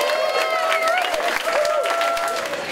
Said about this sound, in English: let's make some noise for Beantown Swing Orchestra.